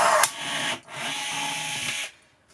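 Milwaukee M12 FUEL cordless riveter setting a 4.8 by 8 mm aluminium rivet, two close bursts of high-pitched motor whir, with a short break between them, ending abruptly.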